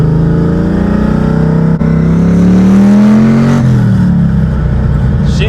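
A car fitted with new 4.56 rear gears pulls away and accelerates, engine drone rising steadily in pitch before a gear change drops the note, loud and close from inside the cabin.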